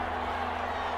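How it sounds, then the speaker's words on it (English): The stadium crowd at an Eagles versus Raiders game in Madden NFL 21 gives off a steady, even roar as a big third down approaches, a dense wash of noise with no distinct cheers standing out. "the crowd getting into it as we come up on a big third down"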